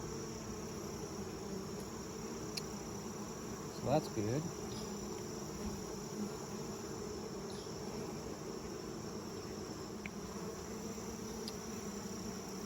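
A constant buzzing hum of honey bees in a mating nuc hive close up, steady throughout, with a brief rustle and a few quiet spoken words partway through.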